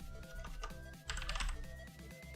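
Close, quiet typing of a command on a computer keyboard in a Windows recovery command prompt: irregular clicking keystrokes with a brief faster burst in the middle, no talk over it.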